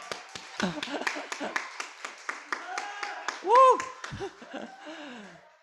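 Youth at a church service clap for birthdays, a rhythmic run of sharp, close claps with laughter and voices mixed in and a sung or called-out note rising partway through.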